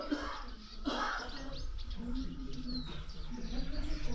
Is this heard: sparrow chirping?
yes